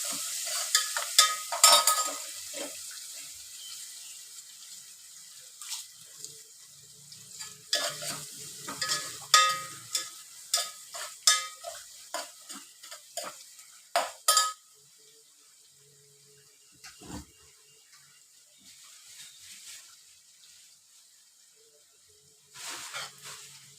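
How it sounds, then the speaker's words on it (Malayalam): Onions sauté in a pan for South Indian tomato rice, crackling and hissing under repeated stirring strokes and utensil clinks for about fifteen seconds before the sizzle quiets to a faint simmer, with one more scrape at the end. "സവാള ഇട്ട് കൊടുത്ത് നല്ലപോലെ വഴറ്റിയതിന് ശേഷം നല്ലപോലെ വഴറ്റിയെടുക്കണം"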